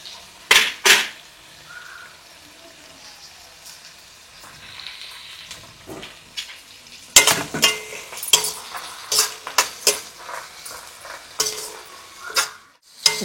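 Green chillies sizzle in a pan of oil for a chicken dish while a metal spoon stirs them. Sharp clanks and scrapes against the pan come in irregular bursts over a soft, low frying hiss.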